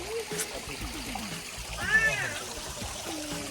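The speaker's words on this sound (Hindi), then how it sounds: "बच्चे कर रहे सब स्विमिंग" Children splashing while swimming in a pool, with steady water noise and splatter running throughout and children's voices talking and calling over it.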